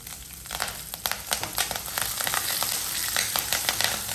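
Chana dal fries in oil for a mani kozhukattai sundal, giving a continuous close sizzle broken by frequent sharp pops and crackles.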